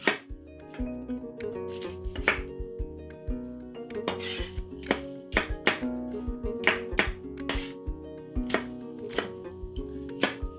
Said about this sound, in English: I have 2 tomatoes. Just chop this.